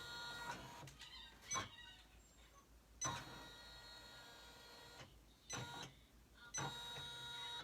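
A sewing machine stitching a fringed smiley-face sweetie pouch, quiet bursts of mechanical whirring broken by pauses, in short irregular runs of stopping and stitching.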